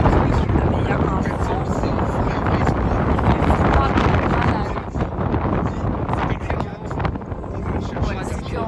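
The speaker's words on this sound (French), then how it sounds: "Il y a un vent." Strong wind at an outdoor event buffets the microphone in a loud, continuous low rumble that gusts and eases, with people talking under it.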